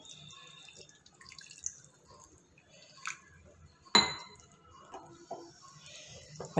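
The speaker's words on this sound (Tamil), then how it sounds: "இந்த கிரேவிக்கு தகுந்த தண்ணி நான் சேர்த்துக்கிறேன்." Water poured into a simmering chicken gravy with garam masala in a cooking pot gives faint dripping and trickling, with a few light clinks of utensils and a sharper clatter midway, and no talk.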